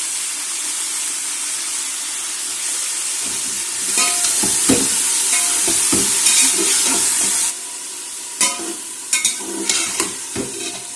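Mustard greens saag with spices is stirred in a pressure cooker, a steady steamy hiss and sizzle with scraping spoon knocks and clatters that grow more distinct toward the end.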